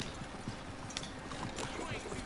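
Horse-drawn wagon rolling along in Red Dead Redemption 2, with a quiet, steady clip-clop of hooves under a dense wash of rumble and background noise, faint and distant.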